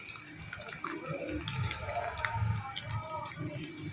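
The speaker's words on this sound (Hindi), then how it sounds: "थोड़ा सा पानी डालेंगे इसमें ताकि जले ना हमारा अदरक थूम और प्याज" Water is poured into a cooking pot holding ginger, garlic and onion for an aloo baingan curry, a steady continuous splash and trickle close by for about four seconds, with no talk.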